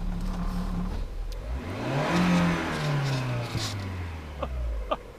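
A Lada Vesta with a robotized automatic gearbox accelerates while driving, its engine note rising and falling through a steady mid-pitched drone with a pitch sweep as it gains speed, heard from inside the car.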